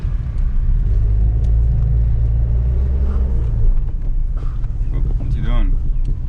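A 1983 Ford Falcon XE with a three-speed gearbox creeps along in Dandenong traffic. The engine gives a continuous low rumble inside the car, with a short high squeal near the end.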